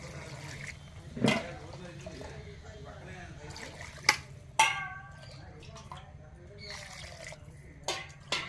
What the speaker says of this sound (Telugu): ఒక లీటర్ నీళ్ళు పోసి